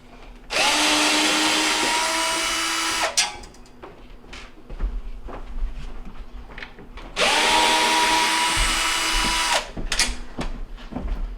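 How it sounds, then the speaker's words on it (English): A cordless power drill spins out the mounting screws on a Whirlpool double oven under repair, two loud sustained whirring bursts of about two and a half seconds each, separated by clicks and handling clatter. "we're going to go ahead and start removing the mounting screws"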